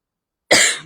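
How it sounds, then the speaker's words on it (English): A single sharp cough bursts out after a moment of silence, close and loud, then fades quickly. "Forgive my cough."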